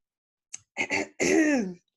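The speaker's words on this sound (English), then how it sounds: "Gotta clear my throat." A person clears their throat in a few short, rasping bursts, close and fairly loud, ending in a longer voiced rumble.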